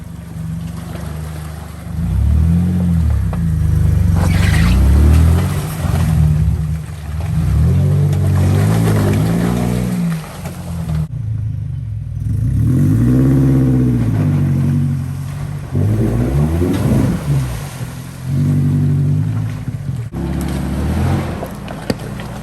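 An off-road vehicle pushes through deep water on an Ohio trail, its engine droning loud and steady with a rushing, sloshing wash that swells and eases as it moves through.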